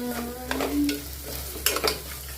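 Pepper chicken curry frying in a pan and being stirred: a soft sizzle runs underneath while a spoon scrapes and clinks against the pan in a few short strokes.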